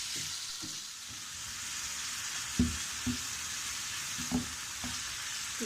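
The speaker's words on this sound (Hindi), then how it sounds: "इस चिकन को हम अच्छी तरह फ्राई करेंगे।" Pieces of chicken frying in a pan, a steady soft sizzle with a few light utensil taps and scrapes, close and alone without talk.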